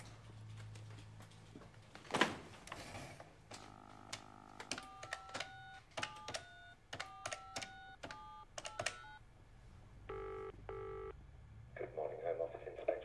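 Office telephone being dialed, a sequence of short touch-tone beeps in irregular clusters, quiet and close, with a brief handset clatter and a person speaking during it.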